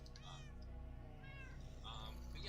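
Several cats meow in a video game jungle setting where cats spawn, repeated plaintive calls rising over a steady game music or ambient hum, fairly close and clear, with no talking.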